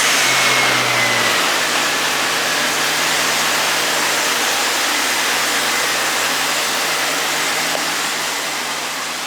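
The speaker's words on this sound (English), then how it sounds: "So driving the Jeep Cherokee XJ with a 1 3/4 inch lift, it's not bad." A lifted Jeep Cherokee XJ with a 1 3/4 inch lift kit cruises down the road, a loud, steady broadband rush of engine drone, tire roar and wind noise heard from inside, holding constant throughout.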